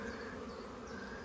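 Honey bees buzz in a dense, steady drone while beehive frames are lifted out for inspection, the hum close and continuous throughout with no talking.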